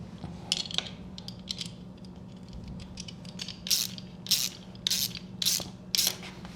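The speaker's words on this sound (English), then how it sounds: "the 13mm socket you'll use on these nylon nuts" A socket ratchet tightens nylon nuts on motorcycle footpeg bolts for a V-Strom lowering kit, first soft scattered clicks, then a run of five or six crisp, evenly spaced ratcheting strokes close by, over a low steady hum.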